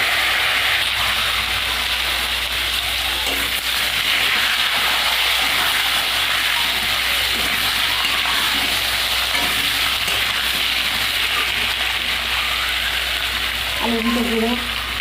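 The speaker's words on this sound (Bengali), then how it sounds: "এবার আলুগুলো ভেজে নেব।" Potatoes frying in hot oil give a loud, even sizzle throughout, with light stirring scrapes and a low steady hum beneath, and no voices.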